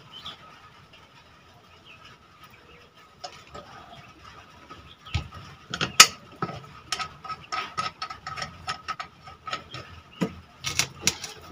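A rewound ceiling fan motor spins freely by hand, giving uneven clicks, ratcheting taps and light mechanical rattles close up. The sounds come in scattered bursts over a faint steady hum.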